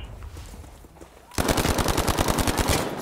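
Sudden rapid-fire video game gunshots, loud and evenly spaced, rattling continuously after a quiet lead-in.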